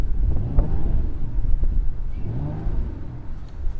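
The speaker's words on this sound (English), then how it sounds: "You can open the valves in the exhaust" Exhaust of a 2021 Mercedes-Benz GLE 53 AMG with its valves open, a steady low rumble with rising and falling engine swells, buffeted by some wind noise and no talking.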